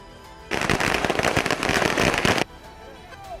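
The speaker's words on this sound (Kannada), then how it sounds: "ಸಿದ್ದು ಅಭಿಮಾನಿಗಳು ಪಟಾಕಿ ಸಿಡಿಸಿ ಸಂಭ್ರಮಿಸಿದ್ರು." Firecrackers burst at a street celebration by political supporters, a dense, loud rapid crackle of pops that starts abruptly and runs for about two seconds before cutting off, with quieter crowd background before and after.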